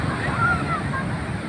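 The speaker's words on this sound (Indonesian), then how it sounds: "Ombaknya besar-besar." Large ocean waves surge and wash on Santolo beach, a continuous rushing roar of surf mixed with wind buffeting the microphone.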